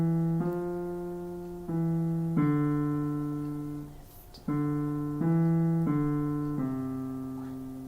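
Left-hand piano part of the Calendar Song from a beginner piano book, played alone as a few sustained low chords and notes in short phrases, each struck and left ringing before the next, with a brief gap near the middle.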